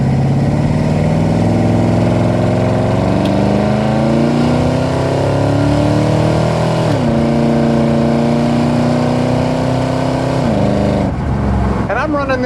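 A 1993 Ford SVT Lightning pickup with a boosted engine accelerates hard, its loud, steady drone climbing in pitch through the gears, with brief dips at the shifts, dominating the whole stretch.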